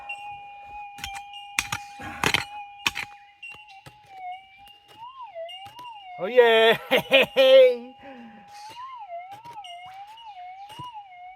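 Metal detector signal while hunting gold in the rain forest, a steady warbling electronic tone that swells and wobbles as a faint target is dug, with clicks and knocks of digging and a brief excited voice in the middle.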